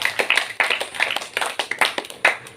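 Congregation at a church feast Mass for the Assumption of Mary clapping: a loose, uneven patter of hand claps from a modest group, rising and falling in small bursts for a couple of seconds.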